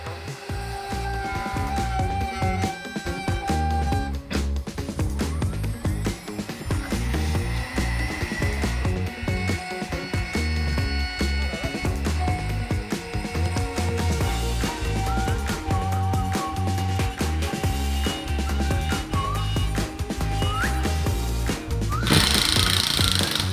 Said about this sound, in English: I got my toolpath saved and it's time to carve old Thumper out